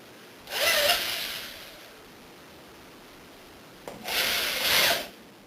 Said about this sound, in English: now that we've drilled the pilot holes